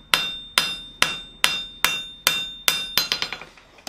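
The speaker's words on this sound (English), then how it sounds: "we're going to just continue to hammer that down" Loud, ringing hammer blows on hot steel bar stock, about 12.5 mm, being forged straight, strike at an even beat, then quicken into a rapid flurry of lighter taps at the end.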